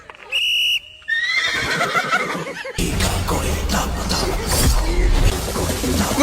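A horse neighs in a comedy challenge segment, a drawn-out whinny after a short electronic tone, followed by a burst of loud, busy noise with laughter.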